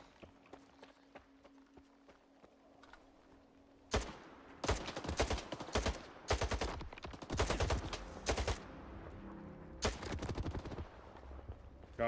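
Rifle gunfire in S.T.A.L.K.E.R. 2, a quiet stretch of ambient hum and footsteps broken by loud bursts of automatic fire in several clustered volleys, close and sharp, with a final burst at the end.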